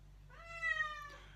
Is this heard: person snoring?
no